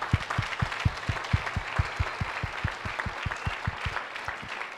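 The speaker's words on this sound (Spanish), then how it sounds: "Un aplauso para todos los calientes" A church congregation applauds during a sermon, a fairly quiet wash of clapping from many hands, with a steady rhythmic thumping beat underneath, pulsing evenly throughout.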